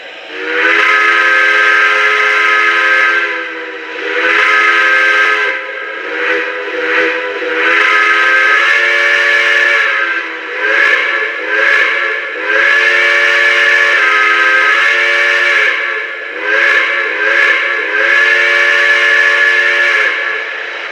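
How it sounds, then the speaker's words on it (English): A loud steam whistle blows in long, sustained blasts with a few brief breaks, its harmonic chord ringing close and strong throughout. "that whistle steam is amazing"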